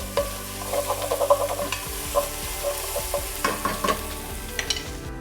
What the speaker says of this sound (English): All right, give it one more stir.